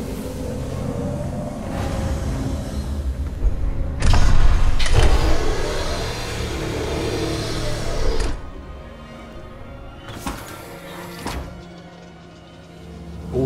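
A reactor core rising up on a lift in the video game Alien Isolation, heard as a loud continuous mechanical motor whine with several clunking shifts and a fading hum, alone and close.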